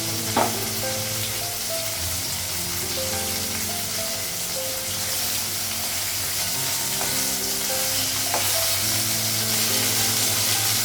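Dal sizzling hard as it hits a hot pan, a dense continuous frying hiss with occasional stirring clinks, loud and close with no talk.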